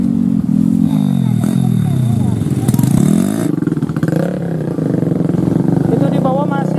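Many motorcycles are revving and climbing an off-road trail in Ciracap, Surade, Jampang, Sukabumi, with loud overlapping engine whines rising and falling close by, mixed with people talking.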